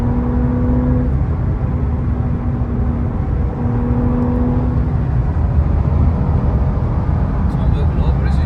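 Porsche 992.2 Carrera pulling hard on the Autobahn: a steady engine drone and road roar inside the cabin, with people talking over it.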